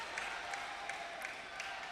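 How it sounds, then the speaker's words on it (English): A crowd at a London table tennis gold medal match in men's singles, Class 7, claps and cheers steadily for player Bayley, a dense, even roar with a few sharper peaks of applause. "The crowd are trying to get behind BAYLEY as he walks back to the table."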